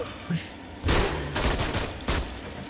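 Gunfire in the Aliens: Colonial Marines co-op game: a quick pop, then bursts of rapid automatic fire in short volleys, close and punchy, over a noisy background of game effects.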